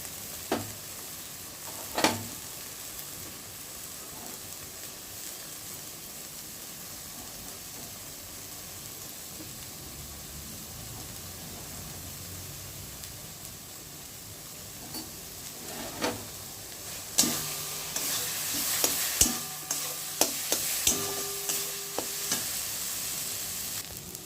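Yardlong bean paste frying in a wok (kadai), salted, as it is stirred: a soft steady sizzle at first, then a busier stretch of repeated scraping and clattering strokes of the spatula near the end, with no voices.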